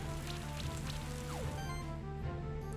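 The Acid Rain attack effect in the video game Monster Sanctuary plays as a soft patter of rain-like droplets over steady tonal game music, with a brief falling tone partway through.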